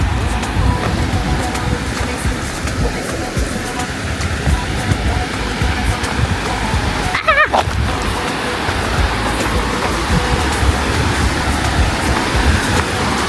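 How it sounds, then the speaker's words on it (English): Broadband rushing water from a rocky river in Portland, Jamaica, steady and close throughout, with a brief whistling tone near the middle. "We finally made it to the river."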